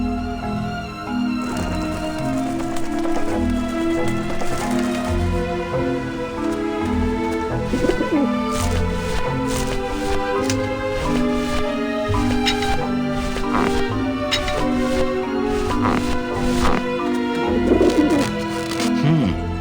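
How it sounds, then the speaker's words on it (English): Pigeons coo without letup in the video game Grim Fandango, a loud, dense flock of layered throaty coos running alongside a steady game soundtrack with occasional clicks. "Back off, birds!"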